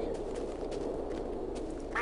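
Duck quacking in the Minecraft Technic modpack, a few quacks over steady background game noise, with one brighter sound near the end.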